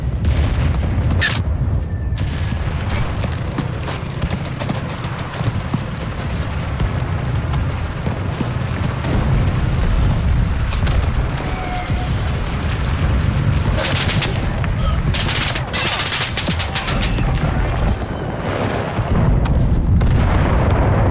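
Artillery fire in the video game Enlisted, a dense barrage of loud booming blasts that rumble continuously, with sharper cracks rising near the end and no pause across the whole stretch.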